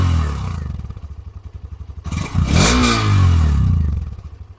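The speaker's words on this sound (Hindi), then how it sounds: "तो इस बाइक का जो बेस साउंड है वो कुछ ऐसा रहेगा। अभी से थोड़ा रैप करते हैं।" A Hero Xtreme 125R motorcycle engine idles with a steady, close, throbbing pulse, then revs up in a loud rising roar before settling back to idle.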